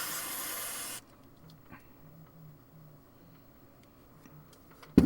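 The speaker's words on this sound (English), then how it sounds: "I'll use a more evaporative type of contact cleaner here" Evaporative contact cleaner sprayed onto an IBM wire contact relay, a steady loud aerosol hiss for about a second that then cuts off, followed by quiet faint handling ticks and a brief knock at the end.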